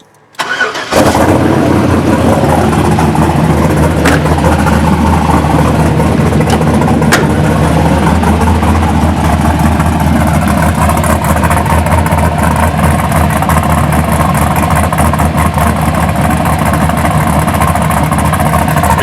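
A 1983 Buick Regal with an LS swap and an aggressive cam cranks and fires after a brief quiet start, then settles into a loud, continuous, lumpy idle close by.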